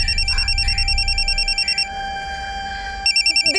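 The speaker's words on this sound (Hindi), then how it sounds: "फोन की आवाज तो अंदर से आ रही है।" A telephone rings from inside a closed room, a loud repeating electronic trill in regular bursts with a short pause between rings, heard alone with no talk.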